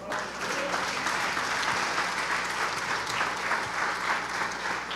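A church congregation applauds during a worship service, with a full, continuous wash of clapping that holds at an even level throughout, some crowd murmur beneath it.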